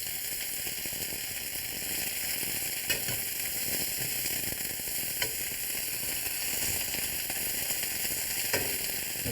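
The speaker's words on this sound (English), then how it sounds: "Now we're getting a nice brown on there, so we're gonna go ahead and start to turn the sirloin." Sirloin beef sears and browns in a hot pan with a steady, even sizzle, broken by a few faint crackles and pops throughout.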